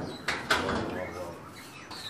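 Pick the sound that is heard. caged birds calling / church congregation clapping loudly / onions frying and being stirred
caged birds calling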